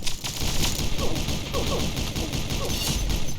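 Gunfire in Pixel Gun 3D Battle Royale, with dense bursts of shots and a scattered fusillade crackling throughout at steady loudness, close and busy, with no talking.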